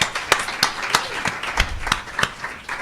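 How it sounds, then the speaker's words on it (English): A small group claps steadily with a few distinct sharp claps standing out, no voices over it. "Let's give these guys a round of applause."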